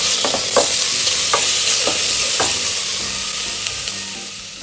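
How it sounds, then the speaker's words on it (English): Chopped tomato stirred and fried in a pan for a Kerala-style beef roast, a loud continuous sizzle broken by several sharp scraping stirs of a spoon against the pan. "Then add chopped tomato. Again mix around 1 minute."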